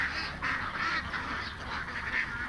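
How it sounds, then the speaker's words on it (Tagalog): A flock of domestic ducks (itik) quacking and honking loudly and continuously at close range, with no speech over them. "Ayan yung mga itik nila"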